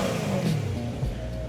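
Supercar engine revving hard, a continuous loud droning roar that holds steady with a slight dip in pitch, heard close and alone without talk.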